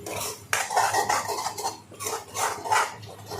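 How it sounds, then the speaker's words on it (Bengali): Ground spices being mixed for biryani, a utensil scraping and clinking against a metal pot in repeated bursts of stirring, close and fairly loud with no talk. "মশলা গুঁড়ো মশলাগুলো মেশানো এবার শুরু মিক্স করার পালা"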